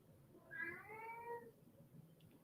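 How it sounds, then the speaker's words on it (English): A single drawn-out meow from a house cat, faint and somewhat distant, rising and falling over about a second against quiet room noise. "Michael, do you hear your cat?"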